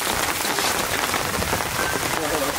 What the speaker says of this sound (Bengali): আবার ঝমঝম করে বৃষ্টি পড়ে এলো।